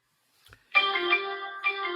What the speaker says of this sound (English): I don't know whose phone went off, but please turn it off